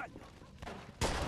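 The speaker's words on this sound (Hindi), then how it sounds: "अबे गोलियां किधर से चला रहे हो?" Gunfire rings out in the video game Mafia 2, a short, fairly faint burst of shots ending in a louder crack, set against background game noise.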